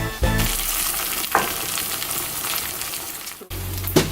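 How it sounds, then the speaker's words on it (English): Flour and vegan Tofutti sour cream hit a hot pan for stroganoff over medium heat, giving a steady close frying sizzle with a few stirring scrapes and brief louder bursts. "now we're gonna add our flour and the tofutti sour cream."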